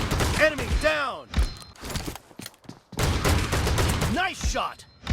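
Shotgun blasts ring out in an online team shooter match, several heavy booms close by, mixed with game announcer voice lines and effects.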